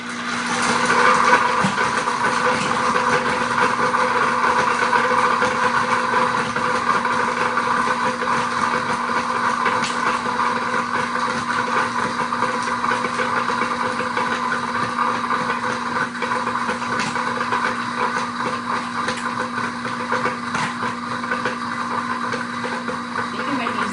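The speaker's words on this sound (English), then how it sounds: "I'm going to turn the blender on." A blender crushes ice with milk for an Italian soda, a steady loud grinding motor whir with a constant hum that runs unbroken for the whole stretch, with no pauses.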